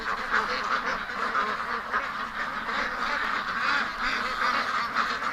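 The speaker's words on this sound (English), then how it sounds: "Yeah, I know, ducks, you want out." Ducks quack steadily in a pen, a dense, continuous chorus of many birds close by, with no clear voices over them.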